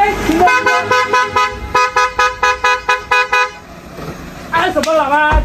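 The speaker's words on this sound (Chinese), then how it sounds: "按什么喇叭？" A car horn honks in a rapid series of about a dozen short, loud toots on a roadside where a wedding car is being stopped at a checkpoint, followed by people talking.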